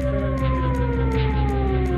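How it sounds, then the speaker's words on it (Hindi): A steady, wailing air raid warning siren in Israel sounds continuously with a slowly falling pitch, loud and sustained throughout with no voices. "इसराइल में सायरन का अलर्ट बजने लगा"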